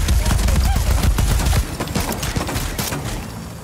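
Rapid bursts of automatic gunfire from a hard-recoiling gun in a video game, loud and dense at first, then thinning into scattered sharper shots.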